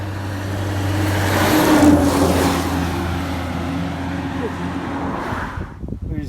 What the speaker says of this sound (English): Yeah, it's a logging truck.